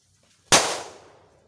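A single firecracker goes off with one sharp, loud bang as it cuts through a banana, followed by a short fading ring of debris and echo, with no one talking.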